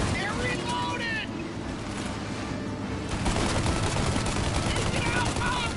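A shootout in the video game Mafia: rapid gunfire bursts crackle back and forth, thickening into a sustained volley in the second half, while voices shout over the shooting.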